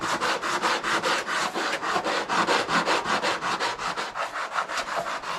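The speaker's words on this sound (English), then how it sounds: "So, really fresh new sandpaper, 80 grit." Foam RC airplane wing sanded by hand with fresh 80-grit sandpaper: loud, rhythmic back-and-forth rasping strokes, about four per second, close up and steady throughout.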